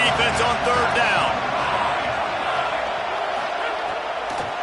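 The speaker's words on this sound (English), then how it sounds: "Decibels rising as the crowd gets behind this defense on 3rd down." Stadium crowd roar in a college football video game on a third down, a loud, broad, sustained crowd noise with whooping and game-commentary talk over it, easing slightly toward the end.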